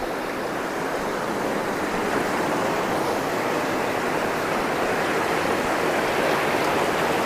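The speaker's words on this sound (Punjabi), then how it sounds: "ਪਾਣੀ ਦਾ ਵਹਾਅ ਕਾਫੀ ਤੇਜ਼ ਹੈ ਇਹਦਾ" Fast-flowing canal water at an old water-powered flour mill in a Sangrur village, a steady, loud, unbroken rushing roar with no pauses or voices.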